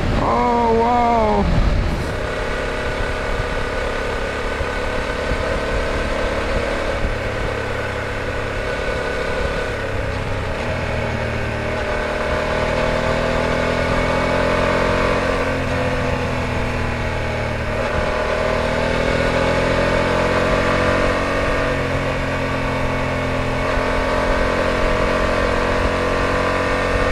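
A BMW F750GS motorcycle is ridden steadily, its engine a continuous mid-pitched drone with gentle rises and falls in revs, a short sharp sound at the start, and no talking.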